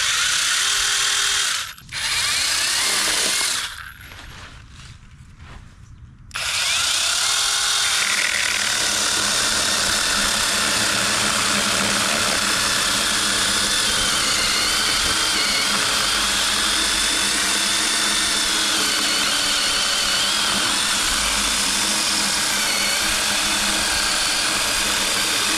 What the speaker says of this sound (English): We're going to test this saw out on this branch right here.